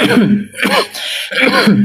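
Rough coughing bursts from one nearby elderly man, with throaty, voiced breaks between them.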